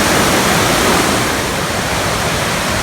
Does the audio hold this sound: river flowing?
yes